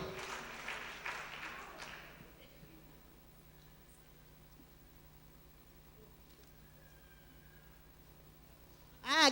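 A church congregation at a Sunday School service claps briefly at the start, then the clapping fades into a quiet room with faint murmurs before a sharp sound at the end.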